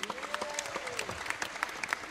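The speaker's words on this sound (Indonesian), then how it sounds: "Tepuk tangan untuk anak-anak ini." Scattered clapping from a crowd for children at a Sholawat religious gathering, with sharp individual claps over a sustained tone and background voices, moderately faint.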